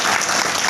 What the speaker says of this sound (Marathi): एकदा सिस्टम करता टाळी वाजा